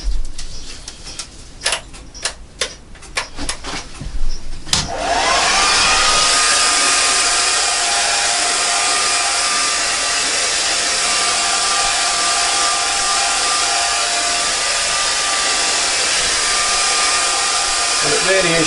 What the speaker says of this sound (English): So you hear the air dryer in the background.